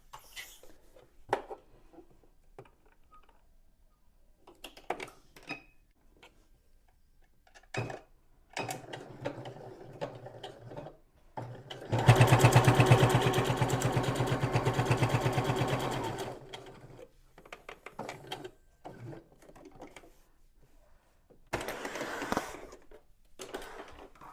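A sewing machine stitches a fabric seam in a short steady burst of fast, even whirring, close and moderately loud, set among quiet handling clicks and pauses.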